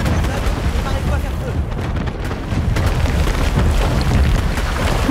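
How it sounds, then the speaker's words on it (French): Cannonballs explode in the city-building game Anno 1800, loud booms and bursts layered densely over continuous battle noise, with scattered sharp cracks throughout. "Il pleut des boulets."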